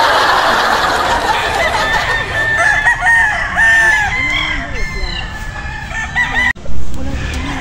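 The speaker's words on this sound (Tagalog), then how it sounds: "Ang gaganda ng mga manok." Chickens and roosters on a wide farm crow and cluck loudly and close by, with overlapping drawn-out crows over a steady chorus of clucking.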